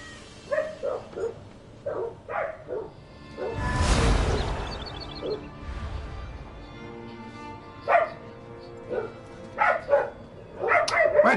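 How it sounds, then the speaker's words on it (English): Dog barks break out in short separate bursts behind a quest in The Elder Scrolls Online, with a loud rushing whoosh partway through and a few high yips near the end. "And I apologize if you hear barking."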